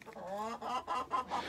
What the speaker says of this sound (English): So the chickens have been shouting this whole time.